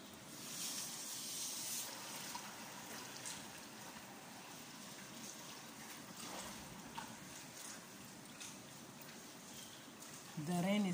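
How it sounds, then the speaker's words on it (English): Heavy rain in Pakistan falls steadily on flooded ground, a broad continuous hiss of downpour and running water close by, with a brief louder splash near the end. "Today has been raining too much."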